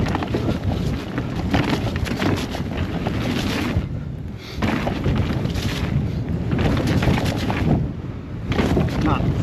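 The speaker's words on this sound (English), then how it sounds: "Nah, it's too windy." Heavy wind buffets a helmet or handlebar microphone on a mountain bike run at Black Hill and Mt Xavier. Loud, roaring gusts rise and fall continuously, easing only briefly twice.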